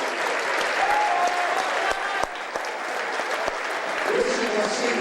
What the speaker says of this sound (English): we will now have an applause for all of our seniors